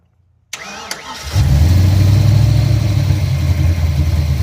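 A car engine fitted with an Edelbrock 1405 carburetor, running off a jump pack, cranks briefly after a moment of silence, then catches and settles into a loud, steady, close running rumble.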